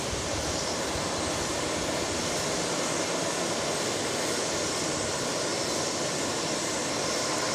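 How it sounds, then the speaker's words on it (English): A JSX Embraer 135 regional jet roars past at Dallas Love Field, a dense, steady wash of broadband jet noise that holds at constant loudness throughout. "Was that an Embraer 135, I believe it is?"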